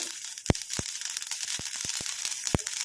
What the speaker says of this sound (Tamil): நல்லா கடுகு பொரியட்டும். பொரிய ஆரம்பிச்சிருச்சு பாருங்க.